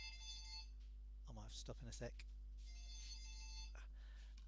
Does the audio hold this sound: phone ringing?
yes